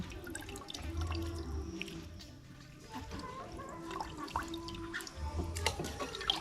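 Rice being washed in water, with a continuous wet sloshing and dripping as the grains are swirled and rinsed, close by, and faint voices in the background.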